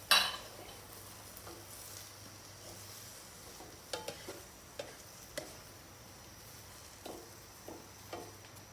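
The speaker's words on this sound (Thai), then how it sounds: "ผัดให้เข้ากัน เติมน้ำลงไปพอดีพอดีไม่ต้องมากครับ" Vegetarian khachon flower stir-fry stirred in a pan, with faint sizzling under scattered soft scrapes and clinks of a utensil against the pan, steady and close.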